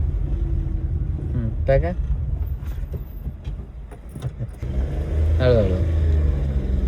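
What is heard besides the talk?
learner car engine as driver shifts into second gear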